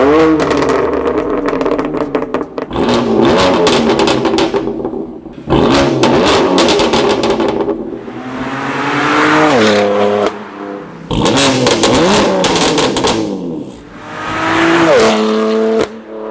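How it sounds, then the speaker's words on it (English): BMW M4 with an S55 engine and factory GTS titanium muffler, loud close revs in repeated bursts, each flaring to a raspy, tinny peak and falling back, with short pauses between pulls. "The only issue with the factory muffler on this car is that it's titanium, so it just creates a ton of rasp."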